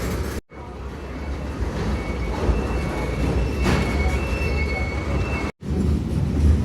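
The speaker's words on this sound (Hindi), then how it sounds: "तकरीबन भी कोई 35 से 40 डब्बे लगे हुए हैं इसके साथ, जिसको GU40 जो है वो इस वक्त लेके चल रहा है और खींच रहा है बाकायदा" A long freight train of about 35 to 40 wagons hauled by a GU40 locomotive rolls steadily past a railway station, with continuous rumbling wheels and faint squeals and no talking.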